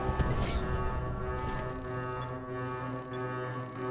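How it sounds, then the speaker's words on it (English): Electronic alarm sounding in the video game Wasteland 2, a sustained tonal ringing with steady repeating pulses that carries on throughout over game background noise. "And I hope that alarm stops."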